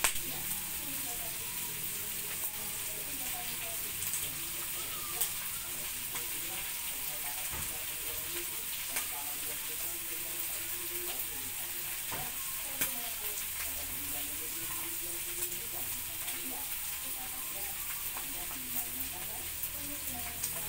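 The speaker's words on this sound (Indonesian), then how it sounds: "ada sisa-sisa di penggorengan, itu saya aduk dengan nasi" Rice being stirred through leftover sambal in a frying pan for a Balinese dish, giving a continuous close sizzle with soft scraping and occasional clicks throughout.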